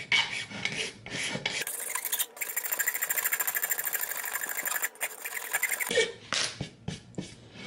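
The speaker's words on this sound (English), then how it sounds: "So what you want to do is scrape like this." A razor blade scraping a wood-burned mark off a wooden surface, producing a harsh rapid rasping that runs for several seconds between shorter scraping strokes at the start and end.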